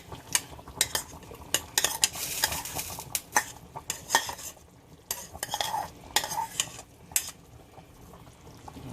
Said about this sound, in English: now we're gonna add our bowl of cut up onions, tomatoes, green scallion,